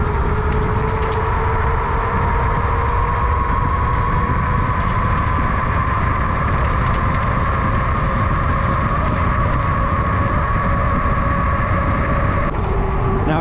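A 40 mph Wired Freedom e-bike accelerates under throttle, its electric motor whine steadily rising in pitch over a constant roar of wind and road noise, loud and close throughout.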